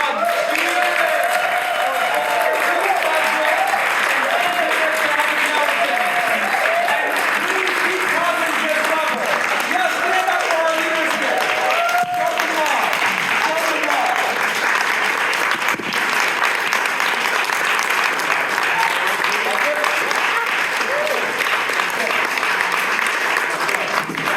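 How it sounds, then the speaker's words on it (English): An audience at a Portland neighborhood activist gathering gives long, sustained applause, a dense and steady wash of clapping for more than twenty seconds, with some voices mixed in. "applause."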